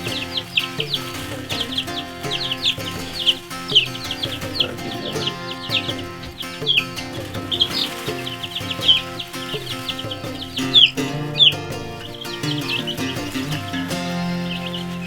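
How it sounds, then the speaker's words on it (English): Young chicks in a new outdoor pen give a busy stream of high, thin peeps and chirps, close and continuous, with faint clucking behind them. "they'll learn what it's like to be a real chicken"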